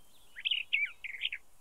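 A small bird gives a quick series of clear, high chirps, three or four bursts in close succession, close and distinct over a quiet background.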